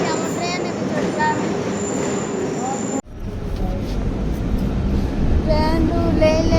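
A train at a railway station, with a steady rumble of rolling carriages and a brief high whine, then a sudden cut to continued engine and track noise, loud and close throughout.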